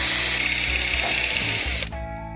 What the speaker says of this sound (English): I'm pre-drilling my holes with a small metal drill.